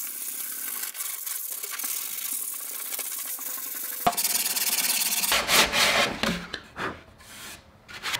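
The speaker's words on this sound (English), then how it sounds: "Just gonna use some rough grit sandpaper and work your way down to smooth off the edges." Rough-grit sandpaper rubbed by hand along wooden edges, a soft, close scratching that is quiet at first and then turns into brisk, uneven strokes of rasping friction.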